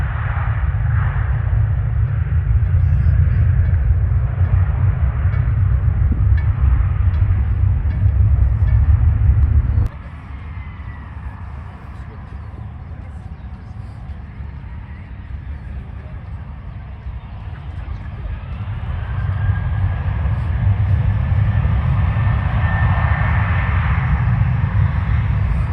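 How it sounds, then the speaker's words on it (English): A Ryanair Boeing 737 taking off from Manchester Airport, a steady heavy jet roar and low rumble that drops briefly and then swells again, continuous across the whole span. "that's the Ryanair 737 previous dimension off to Dublin"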